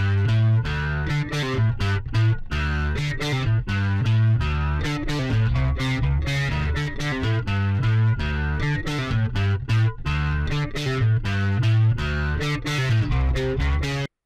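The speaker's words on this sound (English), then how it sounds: "with the drive boosted, you could hear that gain, that distortion, and that bite" An electric guitar played through a Berserker distortion pedal with the drive boosted, thick and gritty, with sustained chords and riffs running continuously and loud.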